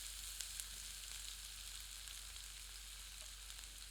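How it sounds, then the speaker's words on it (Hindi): Onions sizzle in hot oil with cumin seeds for a dhaba-style smoked eggplant bharta, a steady soft crackling hiss with occasional small pops, faint and close. "तत्पश्चात इसमें प्याज सम्मिलित करते हैं।"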